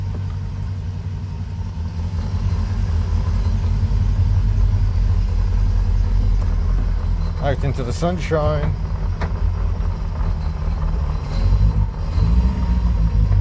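A car engine runs steadily with a rumbling induction note, a loud constant low drone while driving, with a brief voice and a few chirps over it midway.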